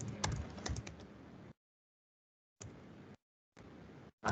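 Code being typed on a computer keyboard, a quick run of close key clicks followed by silent gaps and short further bursts of keystrokes.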